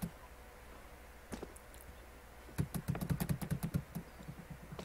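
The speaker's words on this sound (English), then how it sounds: "Are you like pounding your keyboard?" Hard, rapid keystrokes hammer on a computer keyboard while playing CS:GO, a few isolated taps first, then a fast rattling burst of typing.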